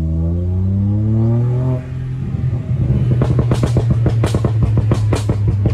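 Tuned stage 2 Volkswagen Polo 1.0 TSI engine revving hard, a rising drone that drops off, then a loud burst of rapid popping and crackling from the exhaust close by, with no talk over it.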